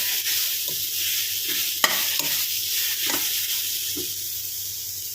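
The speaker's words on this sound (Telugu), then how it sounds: "క్యారెట్ తురం అయితే వేగింది" Grated carrot frying in a pan for carrot halwa, a steady sizzle with a spatula scraping and stirring several times, one sharper clink near the middle; no one speaks.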